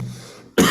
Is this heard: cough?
yes